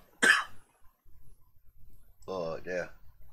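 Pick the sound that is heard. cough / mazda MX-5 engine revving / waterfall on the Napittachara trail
cough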